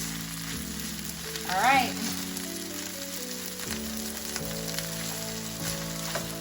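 Rice with bacon and eggs sizzles and crackles steadily in a hot pan on medium-high heat, close up, with a brief stirring scrape and a few spoken words over it.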